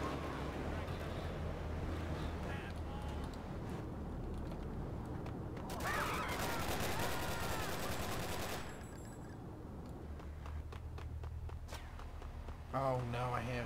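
Gunfire erupts in Grand Theft Auto III, clustered bursts of shots amid steady game ambience, with a loud burst around the middle and brief sharp cracks near the end, while a player talks over it.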